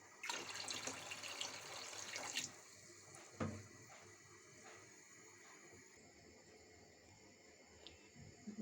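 Water runs from a kitchen tap into a pot while wheat is being prepared, a steady hiss at first that stops after about two seconds, leaving faint room noise and a few small clinks.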